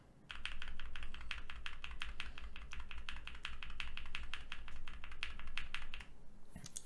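Rapid, continuous typing on a keyboard fitted with lubed and filmed Durock T1 tactile switches, dense even keystrokes close up, with a brief pause near the end.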